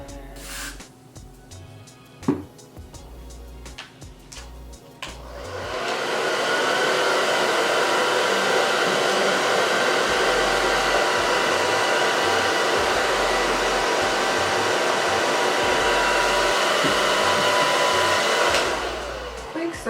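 A handheld hair dryer, used while installing a closure wig, switches on after a few soft handling noises and blows loud and steady close by for about fourteen seconds before cutting off, with no talking.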